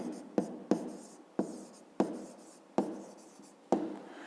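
A pen writes numbers by hand on paper at close range, quiet scratchy strokes coming in six short separate bursts, each starting with a sharp tap that fades away, with no talking.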